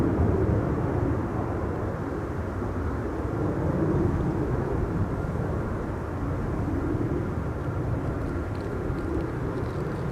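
A Transavia Airbus A321neo jet at Schiphol's Buitenveldertbaan runway, a steady broad engine roar that holds at an even level throughout, with no talking over it.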